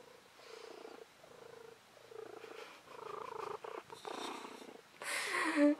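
A house cat purrs close by in a soft, rhythmic rumble of repeated breaths, quiet and intimate, with a brief scratchy rustle near the end.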